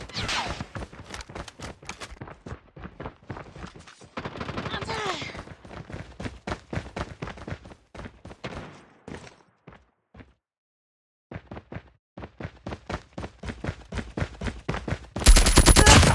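Rapid bursts of automatic gunfire from Call of Duty Mobile in a Search and Destroy ranked match, dense strings of sharp shots with a short silent gap midway and a louder burst at the end.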